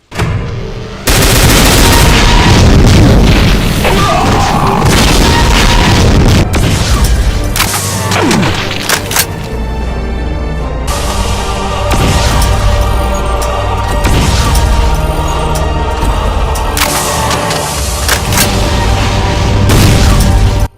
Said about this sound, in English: Twice the Demon Tech BFG shots.